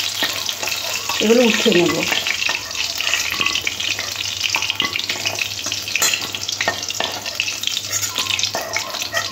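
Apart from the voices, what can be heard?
chicken pieces frying in oil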